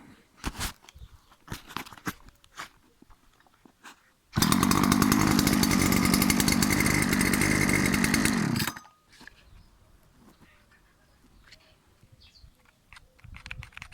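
A Sparta 25 chainsaw fires up and runs at a loud, buzzing idle for about four seconds before cutting off, with scattered handling clicks and knocks before and after.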